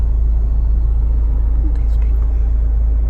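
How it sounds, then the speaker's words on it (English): Low steady engine rumble from cars idling in a long Chick-fil-A drive-thru line, heard from inside a vehicle as a constant droning hum. "this Chick-fil-A drive-thru is insane. There's like 20 cars in line."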